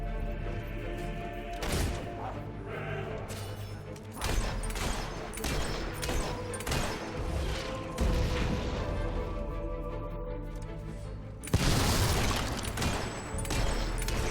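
Mortar fire and explosions in the Fable 3 video game, heard as loud booming blasts and thuds amid dense battle noise, with one especially heavy impact near the end and no talking.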